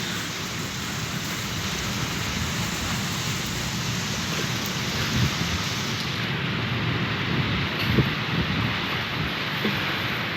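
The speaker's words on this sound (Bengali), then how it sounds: "বৃষ্টি পড়ছে গাইস।" Heavy rain from a Kalbaishakhi (nor'wester) storm pours down steadily in a dense, loud hiss, with low rumbling beneath that suggests a thunderstorm.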